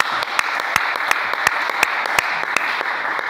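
Applause from a church congregation acclaiming the Lord in a French-language service: a steady bed of clapping punctuated by sharp, distinct nearby hand claps recurring at irregular intervals.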